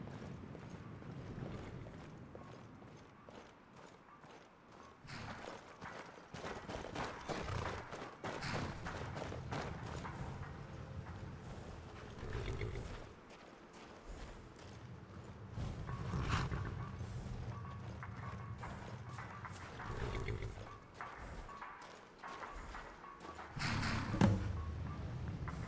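Horse hooves clop steadily in modded Skyrim, a continuous run of muffled thuds and clatters at moderate distance, mixed with low game ambience.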